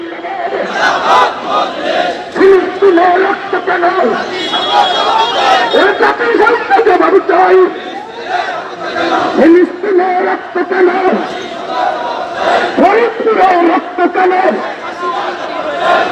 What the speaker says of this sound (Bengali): খিলাফতে মজলিস ঢাকা মহানগরীর আয়োজনে যে একটি বিক্ষোভ মিছিল শুরু হয়েছে